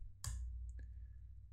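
A single sharp mechanical click followed by a lighter tick and a faint ringing tone, a typewriter keystroke sound effect with its carriage bell, over a low hum.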